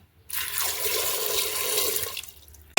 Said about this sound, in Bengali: পরিমাণ মতো আলু দিয়ে আবার দিয়ে দিলাম জল